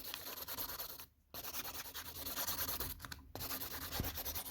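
Polygel nail filed down its body with a hand file, a steady close rasping scratch broken by two short pauses, with no talk.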